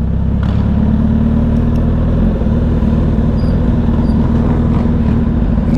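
A motorcycle pulls in at a Tuesday evening bike night in a Cycle Gear lot in June 2024, its engine a loud, close, steady rumble that holds throughout with no talk over it.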